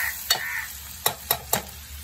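Onion fries in a pan with salt, a soft continuous sizzle broken by several sharp scraping stirs of a spatula against the pan, close up with no talking.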